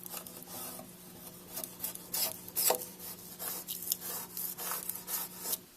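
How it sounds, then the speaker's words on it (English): Rag and putty knife scraping and wiping leftover paint off door hinges and natural wood trim, a steady soft rubbing and rasping with short stronger strokes, close by and without talk. "use that to gently clean off any paint that maybe is on the hinges or on the natural wood trim"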